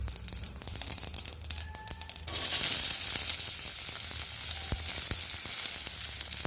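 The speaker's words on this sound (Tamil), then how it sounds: "எண்ணெய் விட்டுக்கலாம்." Mustard seeds spluttering in hot oil for a brinjal curry tempering, a light crackle that suddenly swells into a loud, continuous sizzle with sharp pops scattered through it.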